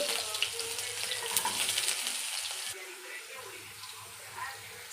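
Finely chopped onions sizzling in hot oil in a pan, a bright steady frying hiss that shifts and softens midway, with faint background noise and no talk.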